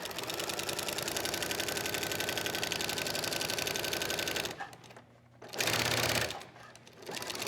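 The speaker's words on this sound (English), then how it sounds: "we're going to take it to our sewing machine and just with a basic straight stitch, stitch it into place" A sewing machine runs a basic straight stitch on fabric, its rapid, steady mechanical whir continuing for several seconds, then stopping, starting again in a short burst and resuming after a brief pause.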